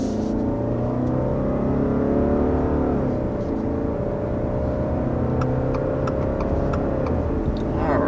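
A 2023 Subaru Outback with a CVT and simulated shifts accelerates steadily, its engine drone rising and falling in pitch inside the cabin, with faint ticking over the top and no talk.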